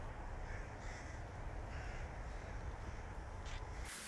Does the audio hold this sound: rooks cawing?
yes